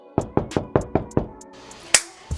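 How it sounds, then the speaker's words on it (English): Someone knocks sharply on a door, six quick raps in an even rhythm, then a pause, another knock and one more, all loud and close with no talking. "who is knocking on the door?"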